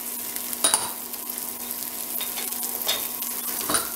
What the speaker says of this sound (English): Now we're going to go in a little bit of onion.